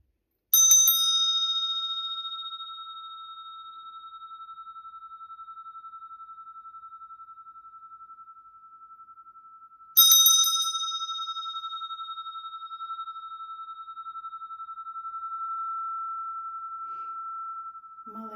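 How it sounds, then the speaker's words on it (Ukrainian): A small Nepali chakra bell is struck twice with a wand, each strike ringing out in a long, pure, sustained tone that slowly fades, close and clear. "дзвіники чакровий дзвоник непальський. З ось такою важерою."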